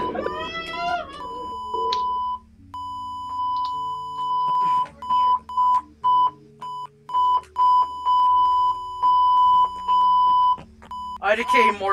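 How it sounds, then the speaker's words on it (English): Morse code beeps in the horror video game Identity Fraud, a loud, steady single-pitched tone pulsing on and off in long and short bursts, with voices talking briefly at the start and end. "So the Morse code is basically beep sounds, but it's actually saying numbers."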